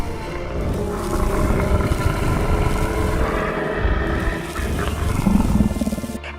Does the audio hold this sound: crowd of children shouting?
no